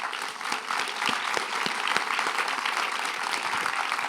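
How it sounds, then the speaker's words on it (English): Audience at a deep tech panel session applauds the speakers, a steady wash of many hands clapping with scattered sharper claps standing out. "I'd like to get a round of applause for my incredible speakers"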